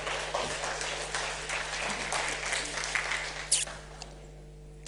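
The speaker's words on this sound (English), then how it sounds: "Was that an applause for me or Victoria?" Applause from an audience at a talk on making money online, a dense patter of clapping that fades away toward the end, heard at a moderate distance.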